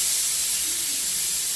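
A pressure cooker on a home kitchen stove releases steam in a loud, steady, close hiss that runs without a break.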